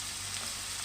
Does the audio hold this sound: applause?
no